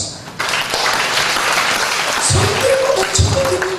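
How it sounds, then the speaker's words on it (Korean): A church congregation at a worship service breaks into loud, sustained applause, the many-handed clapping steady throughout, with a few voices and shouts rising within it. "박수 한번 하겠습니다."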